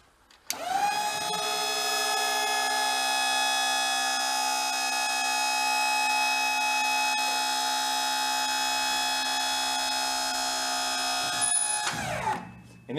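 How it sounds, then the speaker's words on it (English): Hydraulic trailer lift running with its motion warning beeper sounding, a loud continuous tonal buzz held steadily for about eleven seconds before cutting off abruptly. "So normally it'll lift, you flip the button, it'll beep."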